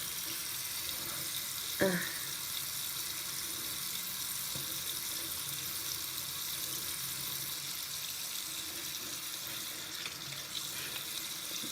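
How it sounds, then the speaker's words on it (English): Water running from a tap into a sink during hand washing, a steady soft hiss of flowing water with one brief clatter early on, faint and close. "Wash my hands afterwards."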